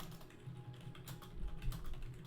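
Quiet, rapid clicking of several people typing on computer keyboards during a tabletop game session, a soft continuous patter of keystrokes with no talking.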